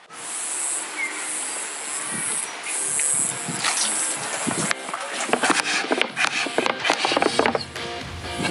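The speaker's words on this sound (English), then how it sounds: "get ready to spray our first coat on the fuel tank" A spray gun hisses continuously, spraying a first coat of paint on a fuel tank, accompanied by rustling and handling noises that grow busier and louder toward the end.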